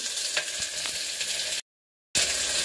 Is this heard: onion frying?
yes